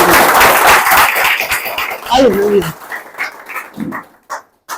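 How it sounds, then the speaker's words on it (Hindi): Audience clapping at an exam results celebration, a burst of applause that thins out after a couple of seconds, with a voice and a few scattered sounds following. "एक बार पुनः ताली बजाइए।"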